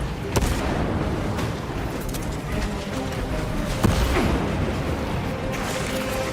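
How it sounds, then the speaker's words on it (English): A frag grenade goes off in Space Marine 2 amid a busy battle, with sharp blasts and gunfire cracks scattered over a constant loud rumble of combat. "Frag grenade out!"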